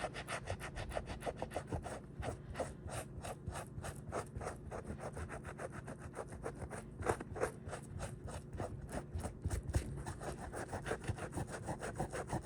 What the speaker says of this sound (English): You got to keep getting different parts of the cloth that's not been used, or else you're just going to be rubbing black back on.